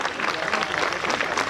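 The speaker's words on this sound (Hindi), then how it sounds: "तालियां बजती रहनी चाहिए, जोरदार तालियां।" Audience applause at a public event in Delhi, a dense steady clatter of many hands clapping close by, sustained without a break through the whole short stretch.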